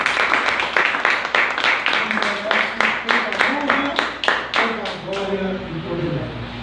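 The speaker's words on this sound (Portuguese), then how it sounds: "Vamos aplaudir o nosso Deus." A church congregation claps in praise with loud, sharp, fairly rhythmic claps while voices and music-like tones rise underneath toward the end.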